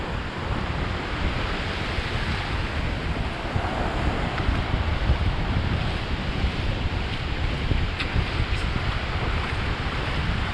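Atlantic Ocean surf at Daytona Beach, Florida rolls in a continuous roar of breaking waves, loud and close, with gusty wind buffeting the microphone throughout.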